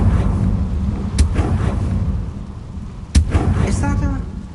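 Confringo blast spell cast in Hogwarts Legacy, two sharp explosive cracks with a booming low rumble underneath, loud and close, followed by crackling debris.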